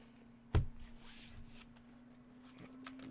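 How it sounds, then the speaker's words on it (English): A Yu-Gi-Oh! Blue-Eyes White Dragon trading card deck is shuffled: one sharp, close snap of cards followed by a short papery riffle, then near-silence with a faint later rustle, quiet overall. "Okay, should be pretty well shuffled"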